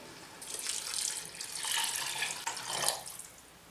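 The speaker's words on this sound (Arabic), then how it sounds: "نصب الماء" Water pours steadily into a cooking pot over rinsed bulgur and fava beans for a Tunisian bulgur soup, a continuous splashing stream close by with no talk.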